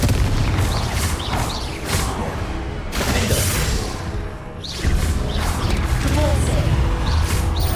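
An incendiary spell explodes in Hogwarts Legacy with a loud, sustained, rumbling boom and crashing blasts. The roar dips briefly in the middle, then swells again and fills the whole stretch.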